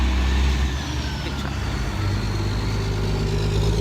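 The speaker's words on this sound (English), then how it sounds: "big truck." A big truck rumbles past close by, its heavy engine a loud steady drone with rising tonal whines from the tyres and a slight swell as it goes, heard without talk.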